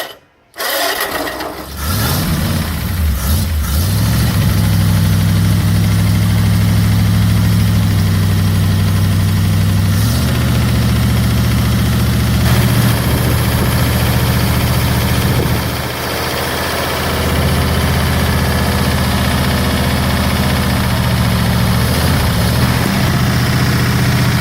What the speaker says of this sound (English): This 276 cubic inch engine, delivering 120 horsepower, blends 239 and 337 parts.